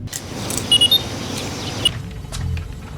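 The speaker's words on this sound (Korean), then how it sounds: "며칠 후 갑자기 기체에 이상이 생겼다는 알람을 받게 되는 클리프" A spacecraft's malfunction alarm in a film sounds as a few quick, high electronic beeps in a short cluster, followed by a single beep, over a low hum of the craft's interior.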